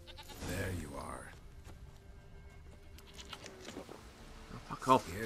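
Goat bleating in the video game The Witcher 3, a short wavering bleat standing out near the end over quiet game ambience, after a brief voice at the start.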